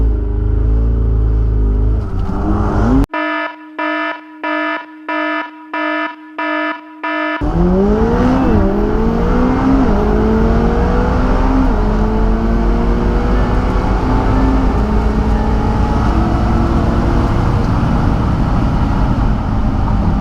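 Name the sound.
McLaren 720S and Dodge Demon drag racing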